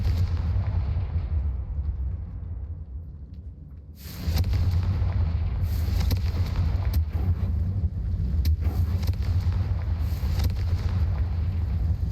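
Confringo fire-blast spell in the video game Hogwarts Legacy, a burst at about four seconds opening into a loud, sustained roar with crackling debris and sharp cracks over a deep rumble.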